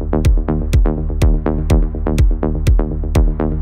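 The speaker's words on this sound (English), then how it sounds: "we have very powerful driving low end" Progressive house bass with a powerful driving low end: a deep, pulsing bassline locked to a steady beat with a crisp hi-hat-like tick on each pulse, loud and continuous.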